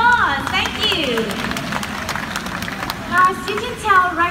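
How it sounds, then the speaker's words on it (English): An audience at the Jurong Bird Park macaw show applauds, scattered clapping rising and falling for several seconds under a raised announcer's voice and bird calls. "Let's give our fruit collecting macaws a round of applause."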